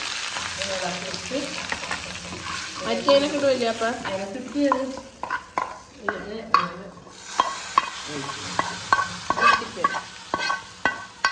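Mustard seeds, fenugreek and curry leaves tempered in hot oil for sambar in a Lakshadweep kitchen, crackling sizzle with a sequence of loud sharp pops and spatters, preceded by a voice talking briefly.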